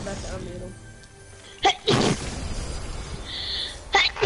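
Over people talking during a Fortnite session, a sudden sharp sneeze bursts out, followed by a second breathy burst a moment later.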